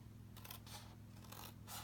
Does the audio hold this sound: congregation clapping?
no